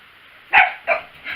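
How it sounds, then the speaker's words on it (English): Two or three sharp dog barks in quick succession, fairly close, the first loudest, with a quieter yelp trailing at the end. "And there go the barking boys."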